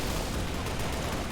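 Dense, continuous burst of gunfire and explosions from the Halo Silent Cartographer mod, a steady roar of overlapping blasts and shots with no clear gaps, loud and busy throughout.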